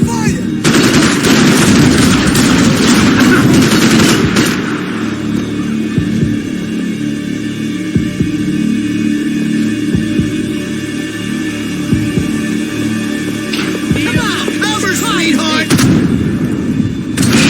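Sustained automatic gunfire from the Max Payne 3 video game, a dense burst of rapid shots at the start and again at the end, with a steady low hum and scattered single shots between.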